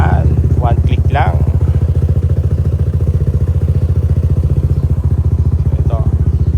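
Kick-started or electric-started tuned motorcycle fitted with a 12 V 8.5 Ah battery, running with a steady close pulsing engine drone throughout, with a brief starter whine near the start.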